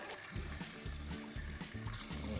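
Water pours steadily into a homemade foam-box aquarium, a continuous close splashing with soft rhythmic low gurgles.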